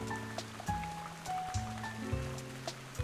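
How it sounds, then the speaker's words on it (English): Rain falls in the video game Garden Story, a soft continuous patter with scattered drops, layered under gentle tonal game music and small interface sounds. "Well, it is raining"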